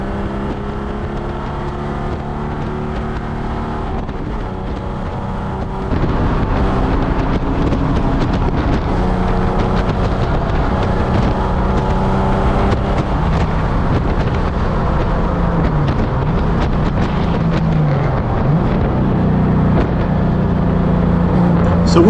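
A Ford Mustang at an SCCA Track Night event at Charlotte drones steadily on the race track, its engine loud and continuous under heavy wind rush, rising slightly partway through.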